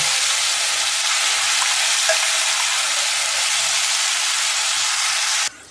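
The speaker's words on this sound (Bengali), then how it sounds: "এবার আমি যে বেটে রেখেছিলাম মিক্সিতে, সেই মশলাটা আমি দিয়ে দিলাম" Ground spice paste hitting hot oil in a pan for a rohu fish curry, a loud, dense, continuous sizzle up close that cuts off abruptly at the very end.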